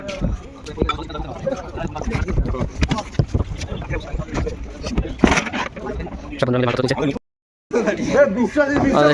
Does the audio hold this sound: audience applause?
no